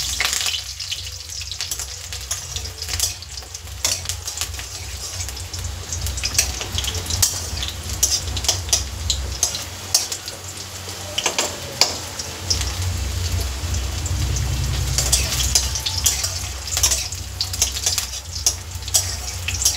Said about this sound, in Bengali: রসুন পেঁয়াজটা একটু লাল লাল করে ভেজে নেব।